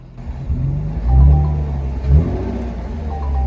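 A salvaged Jaguar F-Type engine revs up twice in quick surges, with a throaty rumble and rushing air intake noise, loud and close with no talking.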